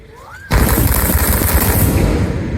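Rapid barrage of firecracker explosions set off as a vedi vazhipadu offering at Triprayar Sree Rama Swamy temple in Kerala, a loud dense crackling roar that bursts in suddenly after a quiet moment and continues without pause.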